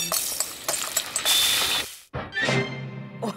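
Cooking pot bubbling in Zelda: Breath of the Wild with meat, butter and a swift carrot, a close game sound effect of clinks and rattling stirs building to a swell, then a brief silence and a short closing chime.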